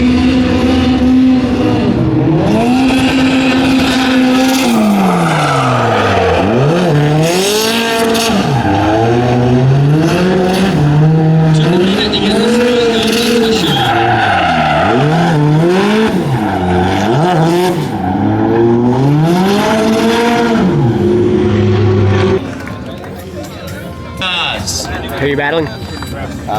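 A pink 1.6-litre Mazda MX-5 drift car at a drift competition, its engine revving loudly and continuously, rising and falling in repeated sweeps with some possible tire squeal. A commentator talks over it throughout.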